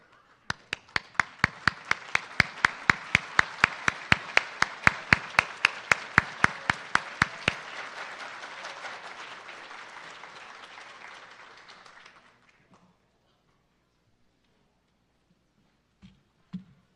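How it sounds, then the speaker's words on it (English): A crowd applauds graduates at a graduation recognition ceremony, steady clapping swelling and holding for about twelve seconds, with a series of sharp louder claps near the start, then fading into quiet. "give our graduates a round of applause"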